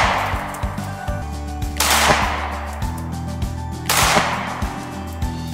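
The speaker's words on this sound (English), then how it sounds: "Each window will be shot 3 times with a 9mm handgun loaded with 124 grain full metal jacket rounds at a distance of 15 feet." A 9mm handgun firing 124 grain full metal jacket rounds into a tempered glass window at 15 feet, two loud sharp reports each followed by a bright crashing burst, with ringing and clatter in between.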